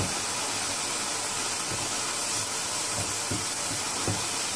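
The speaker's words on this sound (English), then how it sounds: "Saute this." Onions and coriander leaves sautéing in a pan, a steady broadband sizzle and hiss throughout with faint scattered low clatters, continuous and fairly loud, no voices.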